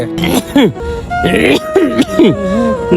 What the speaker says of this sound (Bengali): তোমার কাশিটা বেড়ে গেছে